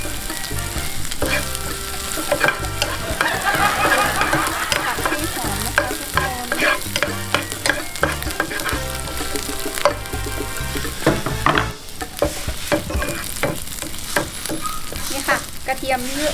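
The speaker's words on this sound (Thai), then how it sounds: "เราก็ทำการคั่วที่เราโขกมาให้หมดนะคะ" Pounded chili and garlic are roasted in a pan for a basil stir-fry, with repeated spatula scrapes and clatters over a constant close sizzle throughout.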